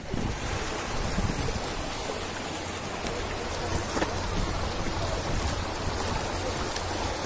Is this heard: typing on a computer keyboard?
no